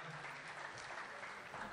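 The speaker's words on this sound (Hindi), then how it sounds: "ज़ोरदार तालियों के दरमियान राहत साहब का एज़ाज़ हुआ चाहता है।" Audience at an Urdu poetry conference in Ichalkaranji applauding, a brief dense wash of clapping heard fairly faint and distant.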